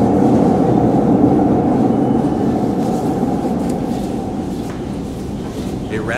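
Train rumbling through an old underground metro station in Milan, a steady loud roar and rattle with faint squeals, fading slightly over several seconds, with a voice talking over it.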